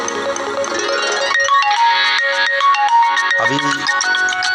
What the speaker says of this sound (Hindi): भाई रामदेव जी का फ़ोन आया है